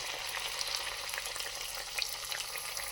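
Medu vada puff up as they fry in hot oil, giving an even, continuous bubbling sizzle heard up close, with no voices over it.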